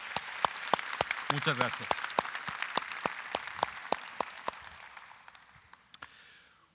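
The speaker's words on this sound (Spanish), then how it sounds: "Y por qué no les damos un fuerte aplauso también" Scattered claps from a church audience in a Spanish-language service, sparse and uneven, fading out toward the end while a voice speaks over them.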